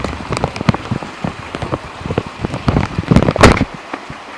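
Heavy rain pours during a Vancouver, Washington thunderstorm, a dense close patter of drops hitting surfaces with a louder surge near the end, no voices over it.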